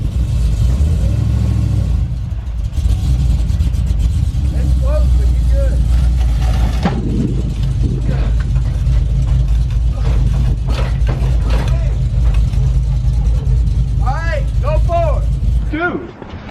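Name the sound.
truck engine while loading onto trailer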